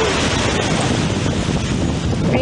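Wind on a blustery coastal day, a loud continuous roar buffeting the microphone with steady broadband rushing and no voices.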